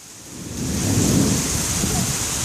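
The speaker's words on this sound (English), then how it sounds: "go in the rain" Steady heavy rain pours down with a low rumble of thunder swelling in the background, loud and continuous.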